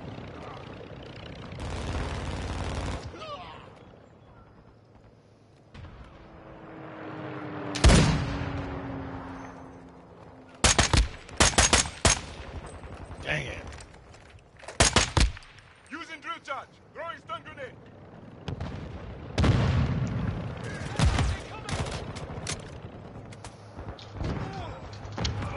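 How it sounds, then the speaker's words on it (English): Gunfire in the console shooter Modern Warfare III on PS5, with sharp bursts of shots and thuds scattered through a chaotic match, some loud and close, others distant, while a player keeps talking over much of it. "I'm spinning around in a circle, firing my weapon."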